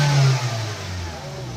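A car engine revs up under acceleration after a mass airflow sensor replacement, with a steady mid-pitched drone that swells at first and then holds smooth and even, close by.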